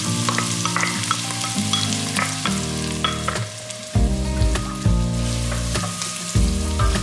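Onions frying in hot vegetable oil for moussaka, a loud continuous sizzle with stirring noises, heard under prominent background music.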